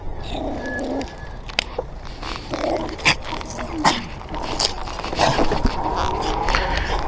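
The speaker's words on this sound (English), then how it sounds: "It's always the little dogs." A small dog yaps and growls in short, sharp bursts at close range, with some faint whimpering and outdoor background noise.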